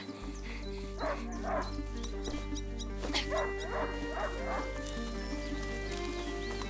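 A hunting dog barks several times in quick bursts over a steady low hum in the video game A Plague Tale: Innocence, with clopping hooves and a background of game sounds.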